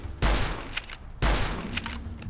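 Two heavy gunshots in Fallout: New Vegas, spaced about a second apart, each a loud sharp blast trailing into a rumbling decay and faint echoing rattles.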